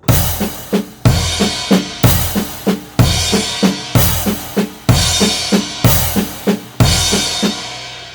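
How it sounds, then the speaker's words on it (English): A drum kit plays a steady repeating pattern of loud cymbal crashes in triplet accents, each backed by a thudding bass drum, close and punchy. "put the accents on the cymbals with a bass drum underneath them"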